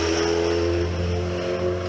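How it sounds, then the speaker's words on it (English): A steady, loud engine drone comes from a car or motorcycle going by, a continuous low hum with a few clear tones that holds level throughout. "here comes a loud car,"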